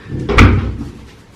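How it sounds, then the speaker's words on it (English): A door in a flat swings shut with one firm, close thud that rings out briefly and fades, with no one speaking. "Just close the door, but we're keeping cool."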